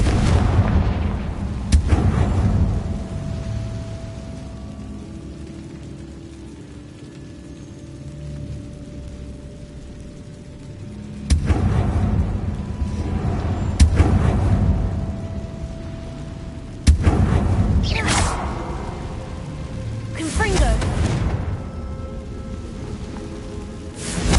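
Confringo fire-spell blasts in Hogwarts Legacy, heavy booming explosions that crack in at intervals and then roll off into a long crackling, rain-like rumble, loud and with no speech over them.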